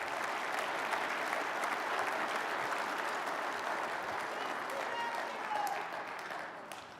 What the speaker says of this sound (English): let's give a big round of applause to all the ladies in this room